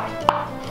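A single crisp knife chop through an onion on a cutting board while preparing a Thai glass noodle salad with shrimp and pork: one sharp, close knock, otherwise quiet.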